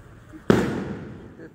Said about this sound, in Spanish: ya no iba a haber tronadero de cohetes